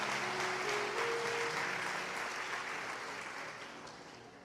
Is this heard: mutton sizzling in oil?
no